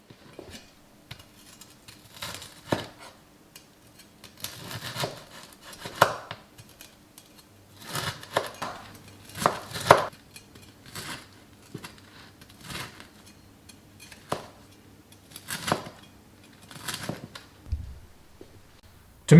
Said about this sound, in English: Then cut the crispy pork belly into bite-sized pieces.